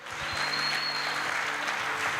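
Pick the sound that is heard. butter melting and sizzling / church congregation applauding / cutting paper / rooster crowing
church congregation applauding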